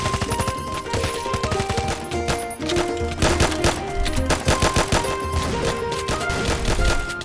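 Uzi gunfire in a Minecraft game with a Doom mod: rapid, continuous automatic bursts that crackle steadily over loud, busy game music throughout.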